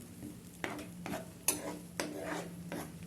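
Tomato puree stirred and sautéed in a pan, with a utensil scraping and clinking against the metal in a few distinct strokes over a low steady background, fairly close and moderately quiet.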